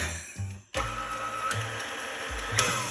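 A KitchenAid stand mixer whipping eggs and sugar for an orange olive oil cake, a steady motor whir with a whisking hum that starts abruptly and runs loud and continuous.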